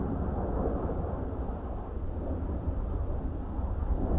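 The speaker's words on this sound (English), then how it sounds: "I mean, the thunder is amazing." Thunder in the DCS flight simulator game, heard from the cockpit of an F/A-18, rolls as a deep, steady rumble that swells slightly toward the end.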